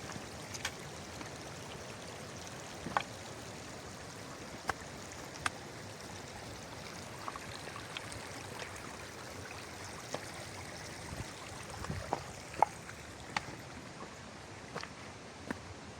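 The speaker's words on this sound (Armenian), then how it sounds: "Եսի ձնից հալված ջրերն են իջնում, միանում են գետին ու սենց միլիոնավոր ջրեր դառնում են" A river swollen with melted snow rushes steadily in a continuous broadband wash heard from a short distance, with faint scattered clicks and no voices.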